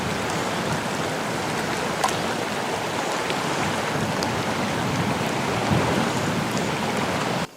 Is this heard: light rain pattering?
yes